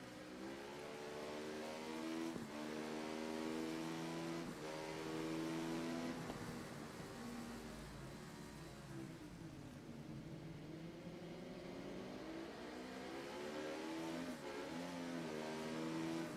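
1000cc superbike engines racing in Ride 3, a loud sustained whine that climbs and drops with gear shifts and throttle changes, several bikes blending together with no talk.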